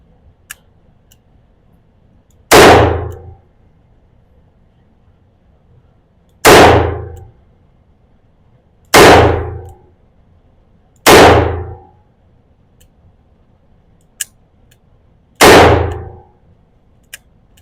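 Five loud, sharp gunshots from a Smith & Wesson Model 629-6 .44 Magnum revolver with a 5-inch barrel, fired singly at uneven intervals with short decaying echoes and quiet gaps between them.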